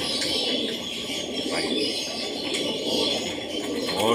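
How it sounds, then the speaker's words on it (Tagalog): Pigeons in a Philippine loft coo and flutter in a steady, close background wash, with soft bird calls rising at moments during drizzly weather. "bibilangin ko muna ay kung mabilang itong mga ibon namin"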